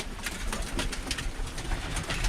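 Birmingham Roller pigeons coo softly inside a loft, low repeated murmuring calls blending over a faint background with no talking.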